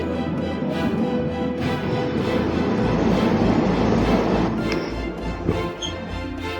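Rumble of an airport railroad train in motion, a steady rolling roar with faint rhythmic clatter of wheels, continuous and fairly close.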